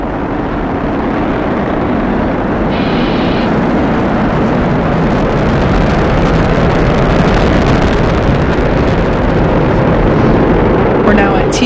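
Continuous broadband roar from a SpaceX Falcon 9 first stage with nine Merlin 1D engines during the Crew-6 crewed launch, steady and loud, heard through wind buffeting with a voice talking over it.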